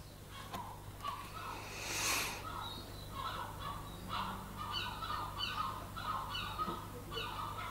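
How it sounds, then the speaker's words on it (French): Gulls call repeatedly outside an open window in a series of harsh, honking cries of moderate loudness. A low steady hum runs underneath, and no one speaks. "Et je vais avoir du mal avec les goélands."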